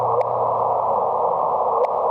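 A sonified gravitational wave chirp from the September 2015 detection sounds as a steady, moderately loud hum with two brief upward chirps, one near the start and one near the end, without any voices.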